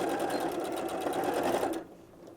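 A sewing machine stitches a canvas bag, running in a fast, steady mechanical whir for nearly two seconds before stopping abruptly, close and loud with no talk.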